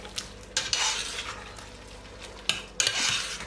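A spoon scraping and stirring beef and potatoes in a pot in several bursts, with a faint sizzle underneath and no talking.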